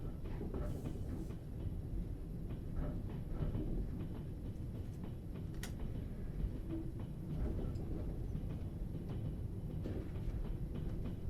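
Steady rolling rumble of a train running on tracks in a Trans-Siberian railroad simulator game, continuous and fairly loud throughout, with faint rhythmic clatter and no talking.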